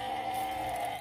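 Goats on a villa property bleat in a steady, sustained call that carries across the whole moment, fairly loud and close with no talking over it.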